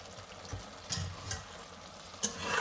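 A spoon stirs hara masala keema in a pan, giving a few soft scrapes and knocks over a gentle sizzle, with a sharper clink near the end, close and fairly quiet.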